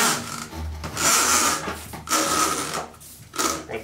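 Replacement hose being fitted into a Dyson DC08 vacuum, producing close rubbing and scraping plastic sounds in several bursts with short pauses between.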